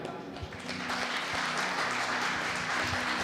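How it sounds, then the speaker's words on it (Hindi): A congregation claps during a worship service, a steady crowd of applause building after a brief quieter start and continuing evenly, with voices faintly mixed underneath. "प्रभु को धन्यवाद देते हुए ताली बजाएं"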